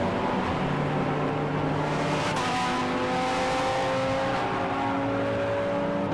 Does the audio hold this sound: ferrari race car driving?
yes